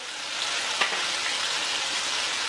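Cumin seeds and spices sizzle in hot oil with a dense, steady frying crackle, close and loud, and a small pop near the start.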